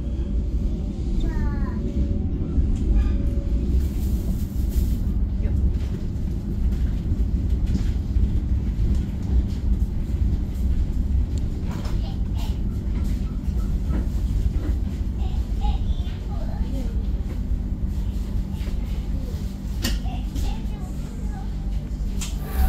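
The KA Sancaka Utara passenger train runs on rails, giving a steady low rumble with faint rhythmic clatter and occasional squeals, heard from inside the carriage throughout.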